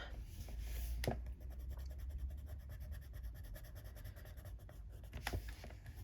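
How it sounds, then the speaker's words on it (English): A glitter gel pen colours on paper in a steady scratchy scribble, close and continuous with quick back-and-forth strokes and a couple of sharper taps. "So I'm thinking a gel pen, a glitter gel pen, and gel pen of course can go over pencil, no problem."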